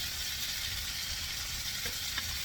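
Yogurt marinade with cumin, turmeric and garlic ginger paste sizzles in the pot with chicken biryani, a steady close frying hiss with faint stirring clicks.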